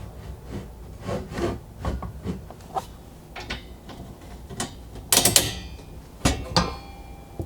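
A Ford Bronco MOLLE panel is slid and knocked into its mounting bracket: close scraping, rubbing and sharp knocks in an irregular run, with louder metallic clatter near the end.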